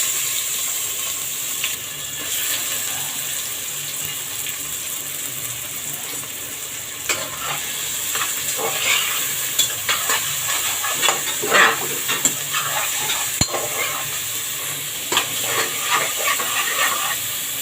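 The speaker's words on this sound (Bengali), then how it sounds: "পেঁয়াজ ছেড়ে দেব।" Onions hit hot oil in a kadai for a chicken dish and sizzle steadily, with bursts of crackling and stirring scrapes rising midway, close and fairly loud.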